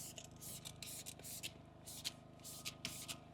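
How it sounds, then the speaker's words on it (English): Repeated short spritzes from a spray bottle of cleaner onto a car's interior plastics, several quick bursts in uneven rhythm, close and fairly quiet, with light handling noise between them. "Spray on the plastics right here in the back"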